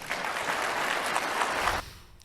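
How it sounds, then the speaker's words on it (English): An audience gives a burst of steady, dense applause that carries evenly for almost two seconds, then drops away abruptly, leaving a faint room tail. "Thunderous applause for that."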